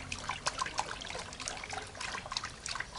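A baby splashing water in a small pool, with light scattered splashes and trickling drips, fairly soft and close, no voices over it.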